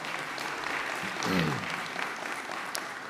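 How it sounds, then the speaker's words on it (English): Applause from the audience at an Indigenous clean energy forum continues at moderate loudness throughout, with a brief voice rising over it partway through. "Another big round of applause"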